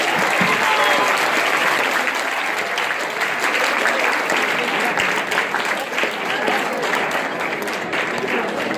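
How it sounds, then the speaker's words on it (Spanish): Lecture audience on Baja California in the Mexican Revolution applauds in a dense, sustained burst of clapping from a roomful of people, steady and fairly loud throughout. "Un aplauso, por favor."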